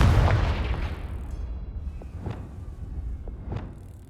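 Fiery Confringo blast spell from the Hogwarts Legacy video game: a heavy, loud boom opens and slowly rumbles away, followed by a few sharper cracking bursts at intervals.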